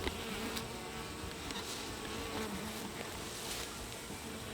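A dense swarm of robber honey bees buzzes steadily and up close, a continuous droning hum with no pauses.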